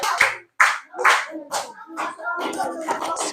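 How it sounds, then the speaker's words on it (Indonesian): A classroom audience at a school group presentation claps in short, separate rhythmic bursts, fairly close and loud, with a few voices mixed in toward the end. "Tepuk tangan untuk kelompok 1."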